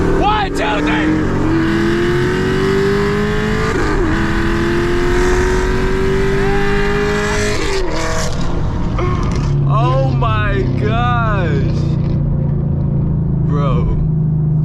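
A Chevrolet Camaro SS with a very loud exhaust revs hard and accelerates through the gears on a night drive, its engine note rising and falling continuously from inside the car, with excited voices talking over it.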